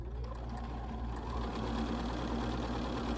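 A sewing machine stitches a quilt block in a continuous, close, rapid mechanical whir with a steady pulsing rhythm, running alone without talk.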